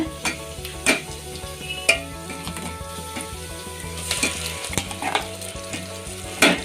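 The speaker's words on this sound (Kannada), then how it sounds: "ಈಗ ನಾವು ರುಬ್ಬಿಟ್ಕೊಂಡಿರೋಂಥ ಮಸಾಲೆನ ಒಗ್ಗರಣೆಗೆ ಹಾಕೊಳ್ಳೋಣ" Ground masala paste is dropped into hot tempering oil for a coconut sambar. It crackles and sizzles steadily, with spoon stirs and scrapes that come and go against the pan, close and moderately loud with no talking.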